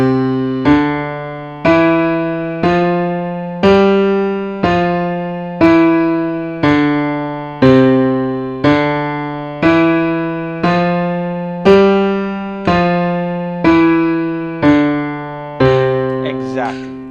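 Piano exercise played with the left hand alone: a steady chain of repeated struck chords or note groups, evenly spaced about one per second, each decaying before the next, close and clear with no talking.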